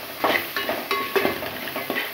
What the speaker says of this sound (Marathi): टमाटर पण घालून फ्राय करून घ्यायचं चांगलं